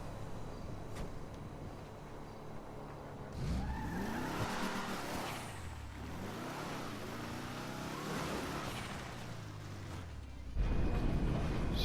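A Deluxo car in GTA V on PlayStation 4 drives along, its engine revving and shifting pitch with tire squeals and skids, steady and fairly close, swelling louder near the end.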